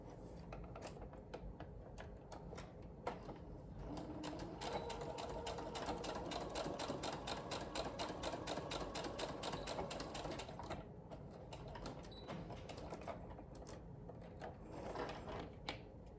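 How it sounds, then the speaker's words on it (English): A sewing machine stitches a shoulder seam in rapid, even bursts. The stitching speeds up and grows louder in the middle, then slows toward the end, close by and with no talking. "we'll go ahead and stitch up the other shoulder seam."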